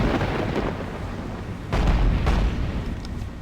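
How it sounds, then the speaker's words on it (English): Naval guns firing on enemy oilers in the World War II naval game Battlestations Pacific, loud continuous rumbling booms with a heavier blast midway, dense and close. "we will start opening fire on them"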